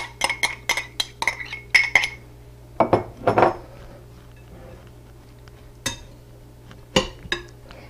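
Chopped cooking onions being mixed into a shredded head of cabbage in a bowl for coleslaw, with quick bursts of clinking and utensil knocks against the dish, then scattered single taps after short pauses.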